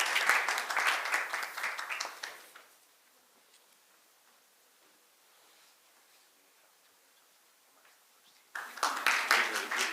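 Audience applause welcoming a speaker at an international conference hall, a burst of dense clapping that stops abruptly, followed by several seconds of near silence before a second burst of clapping begins.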